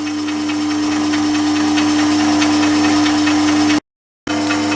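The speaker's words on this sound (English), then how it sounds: "Then I can just pull the lever up on the ML7 and let it do its work." Myford ML7 lathe running under power while screw-cutting with the half nut engaged, a steady close motor hum and mechanical whir with a strong constant drone, briefly cut off near the end before resuming.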